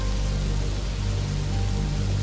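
Steady rain falls without a break, a dense and even hiss with a low rumble beneath it, soft and constant throughout with no voices.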